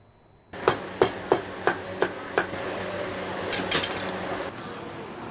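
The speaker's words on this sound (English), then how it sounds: "Hanging chickens, chopping cleavers." Cleavers chop chicken at a chicken rice stall, six sharp, evenly spaced whacks on a board, followed by lighter clinks and clatters of utensils against a quiet background.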